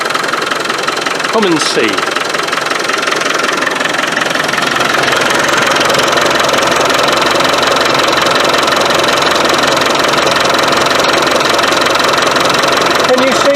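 Land Rover 300Tdi diesel engine with a leaking injector pump, running close by: a loud, steady knocking idle clatter throughout, with a brief voice near the start.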